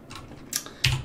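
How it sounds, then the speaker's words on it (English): Computer keyboard typing in a command prompt while installing a C compiler: a few quick, close keystroke clicks, with the last press louder and fuller. "I just start typing in min and then"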